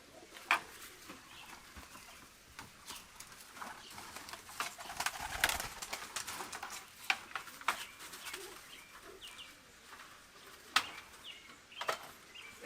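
Birmingham Roller pigeons in a loft give soft, low coos amid scattered wing flutters and shuffling, fairly quiet and intermittent, with no talking.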